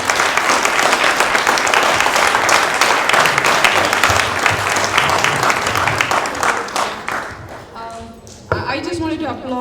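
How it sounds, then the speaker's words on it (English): An audience at an annual community event for children applauds loudly and continuously, dense clapping that fades toward the end as a few sharper taps and a voice emerge. "Can we give a big round of applause to all these kids?"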